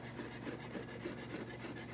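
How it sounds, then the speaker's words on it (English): Thin knife slices through shiitake mushrooms on a board for an Italian egg drop soup, a steady run of soft, close rasping strokes without pause and no voices. "So first I'm going to take my shiitake mushrooms and just do like a nice thin slice."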